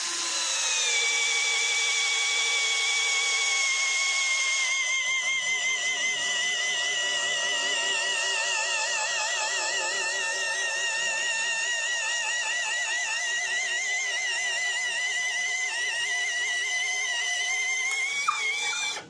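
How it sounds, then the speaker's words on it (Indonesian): An NRT Pro DC743 cordless brushless impact drill driving a 19 mm auger bit, a steady high-pitched motor whine running continuously for nearly twenty seconds at close range, shifting slightly in pitch midway and stopping abruptly at the end. "Berikutnya menggunakan mata bor auger dengan diameter 19 mm."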